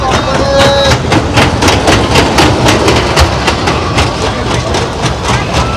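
A toy train ride at a Dussehra fair in Bhubaneswar rattles along with a loud, steady clickety-clack that keeps a fast, even rhythm throughout, close by, against a busy background of fairground noise.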